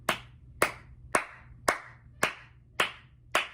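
Seven sharp hand claps ring out alone at an even, unhurried rhythm, each with a short decay, used to move stagnant energy and bring harmony to a room.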